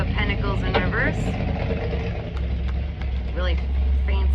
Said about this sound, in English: Really fancy old truck just went by.